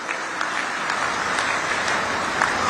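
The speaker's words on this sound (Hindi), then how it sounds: "आप सभी लोगों की तालियों की गड़गड़ाहट के साथ इन परियोजनाओं का अभिवादन हम करें" Large crowd applause at a political rally addressed by Prime Minister Narendra Modi in Jabalpur, a loud, unbroken roar of clapping that holds steady throughout with no voices on top.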